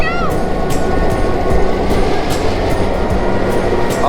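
The Polar Express train at Branson Landing rolls past close by with a loud steady rumble and rhythmic clacking of wheels over rail joints, a brief squeal near the start.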